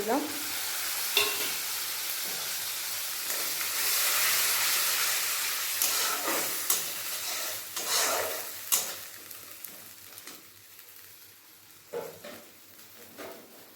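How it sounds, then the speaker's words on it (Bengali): Ground spice paste hits hot oil for an egg curry with a loud, hissing sizzle that gradually settles, while a spoon stirs and scrapes the pan in scattered knocks and sharper bursts of crackle. "আর ওই তেলের মধ্যে দিয়ে দেবো বেটে রাখা মশলা"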